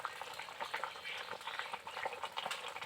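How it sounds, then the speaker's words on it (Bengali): A pot of vegetable curry with cauliflower and spinach bubbling at a low, steady boil, soft irregular popping and gurgling throughout, fairly faint and close. "তরকারিটা কিছুক্ষণ ফুটবে।"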